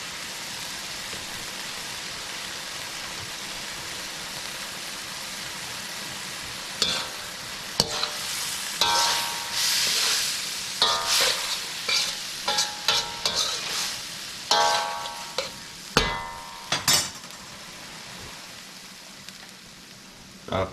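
Onions frying in a pan for chicken chow mein give a steady sizzling hiss, then busy clattering stirring strokes come in bursts over the crackle, close and fairly loud.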